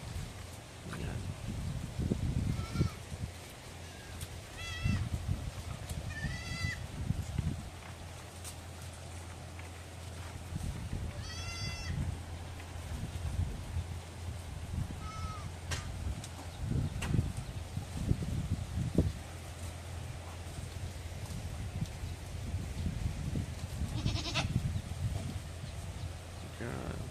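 Goats on a farm give several short, wavering bleats, some close and some farther off, over constant rustling background noise, with people talking at times.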